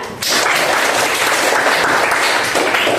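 Audience applause from students in a classroom at a senior high school, a dense steady clapping that starts abruptly and holds loud and even for about three seconds.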